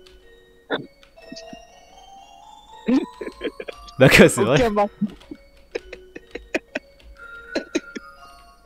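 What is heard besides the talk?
ice cream truck-like music in video game LOSTBOY.EXE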